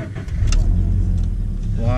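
A Scion FR-S engine runs close by with a steady low rumble and slight revving while the pedals are worked to switch off traction control; a voice talks over it.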